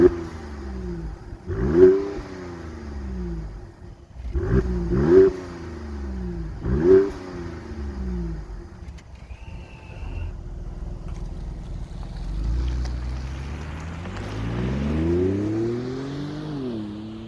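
A 2019 Mercedes S450 Coupé 4matic engine revs in three sharp blips, then rises into a longer climbing rev, loud and close with no voices.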